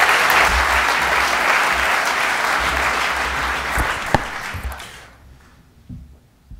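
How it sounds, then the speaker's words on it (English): Warm audience applause at a conference talk on oil prices and geopolitics, a dense, loud wash of clapping that holds steady then fades out quickly, leaving a few scattered claps and quiet room noise. "Warm round of applause."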